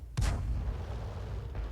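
A 122mm gun on an SU-122 tank destroyer fires once in a tank video game, a sharp close blast followed by a long rumbling decay, with a softer distant report near the end.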